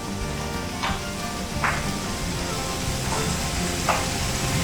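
Vegetables charring in a hot pan for Mexican noodle soup sizzle in a dense, steady crackle, close and loud, with a few brief scraping clicks from stirring scattered through.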